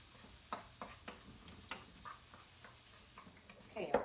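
Onions sautéing in a pan until transparent and lightly browned, heard as a faint, steady sizzle with soft stirring clicks and taps at irregular intervals and a slightly louder clatter near the end.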